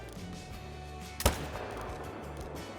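A single sharp hunting-rifle shot fired at a tahr in a hunting video game, loud and sudden over a quiet outdoor ambience, with a short decaying tail.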